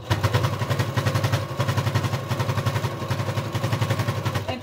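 Sewing machine stitching a fabric face mask on a plastic table, the fast steady needle rhythm setting the table bouncing and rattling; loud, close, continuous pulsing clatter with no talk.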